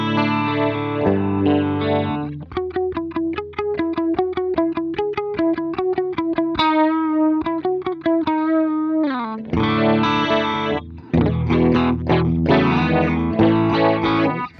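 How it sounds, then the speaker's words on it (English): An electric guitar plays a run of picked notes and sustained chords through a simple vibrato pedal, the pitch wavering steadily. It stays loud and close throughout with no voices. "just a simple little vibrato."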